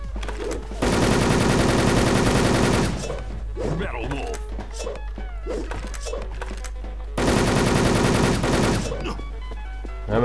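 Automatic rifle fire from the M4A1 Legend in the online shooter Wolfteam, sustained rapid bursts up front and again later, with scattered game effects and lighter clatter in between.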